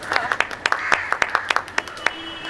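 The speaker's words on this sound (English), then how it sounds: "An applause for all the speakers with us today" Brief applause from an audience at a dance talk event, with scattered sharp hand claps over a soft wash, moderately near and fading after a couple of seconds.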